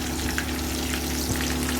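Jali kebabs fry in hot oil with a dense, steady sizzle that stays close and even for a short stretch, with no voices.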